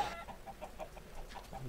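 Chickens in a Minecraft automated chicken farm cluck in short, evenly spaced calls, faint and close, with no talk over them.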